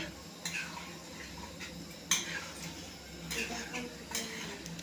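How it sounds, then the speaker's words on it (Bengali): A spoon stirs chicken curry in a pot after water is added, with a few sharp metallic clinks and scrapes against the pot over a quiet, low background. "জল দেওয়া হয়ে গেল, দিয়ে দেবো একটু নাড়াচাড়া করে"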